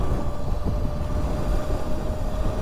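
A mini bike engine revs hard under throttle, a dense continuous rumble with a faint high whine, steady and close for a few seconds, with no talk.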